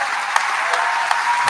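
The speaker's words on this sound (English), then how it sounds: "could you give him a big round of applause for the work he's done?" A commencement audience at a spring graduation ceremony gives a round of applause, a steady wash of clapping with a few sharper claps standing out.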